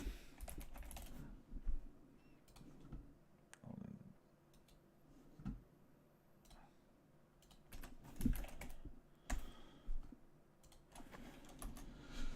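Rapid typing on a computer keyboard in bursts, fairly close and moderately quiet, with some scattered clicks and a low room hum between the keystrokes.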